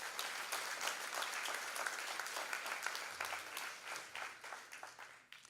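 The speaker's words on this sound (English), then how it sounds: "Let's give her another big round of applause." Audience applause follows a classical Indian dance performance at a live-streamed cultural program, many hands clapping in a steady, moderately faint wash that slowly tapers toward the end.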